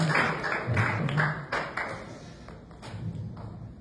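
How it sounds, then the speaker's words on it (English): An audience gives a round of applause after a war veteran's talk, a dense burst of clapping that is loud at first and gradually thins out toward the end. "That's a round of applause"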